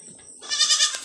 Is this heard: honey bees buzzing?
no